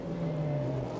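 Race car engine at Laguna Seca during the 1999 sports car championship as the car spins back around, a steady mid-pitched engine note held at moderate distance.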